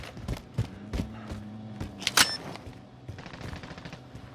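Gunfire in a video game, a handful of sharp shots in an irregular rhythm with a short rapid burst near the middle, fairly close, over low background rumble.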